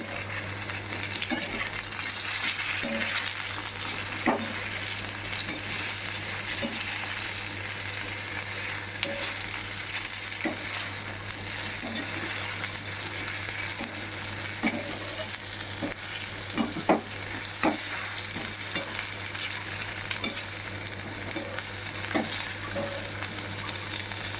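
Cumin and curry leaves frying in a pan as they are stirred, making a continuous close sizzle with light scraping and clinks of the spoon against the pan, under a low steady hum.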